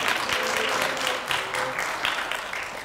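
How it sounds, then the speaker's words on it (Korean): Congregation applauding to welcome a pastor to the pulpit at a Korean national prayer day fasting service, a steady broad wash of clapping held for a few seconds with a faint voice underneath. "우리 박수로 맞이하겠습니다"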